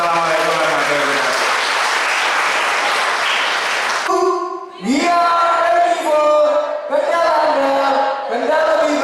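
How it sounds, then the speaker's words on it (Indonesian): Audience applause at a regional tourism ambassador final audition, a loud wash of crowd clapping that gives way to a voice and ringing musical tones. "Tepuk tangan kita semuanya."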